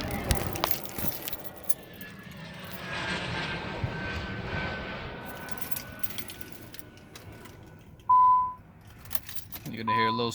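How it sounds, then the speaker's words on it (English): The twin-turbo engine of a 1993 Nissan starts and runs with a steady broadband roar and a thin, sustained squeal riding over it, followed by a sharp beep and louder noise near the end. "You're gonna hear a little squealing, but if you guys know Nissan, it'll go away."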